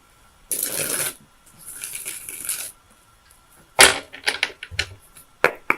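Tarot cards are shuffled close up in two short riffling bursts, followed by a series of sharp taps and snaps as the cards are squared and laid down, with no talking.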